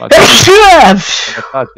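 A sudden loud sneeze bursts out close to the microphone, followed right after by someone talking during a Minecraft SkyBlock gaming session.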